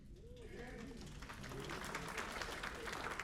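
Audience applause at an indoor brass band concert, a steady wash of many hands clapping that grows slightly louder, with a voice speaking underneath at the start.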